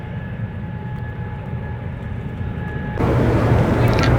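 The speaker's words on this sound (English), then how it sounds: "you got to put up with the sound of the planes coming in and landing" Airplanes descending to land near a city beach on Boston Harbour, a steady low jet roar that swells and grows louder toward the end, heard alone without talk.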